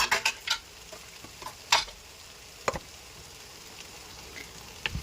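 Chicken pieces stir-frying in spice powder for a hotel-style coconut milk chicken curry, with a faint background sizzle and sharp scrapes and clinks from the stirring spoon against the pan.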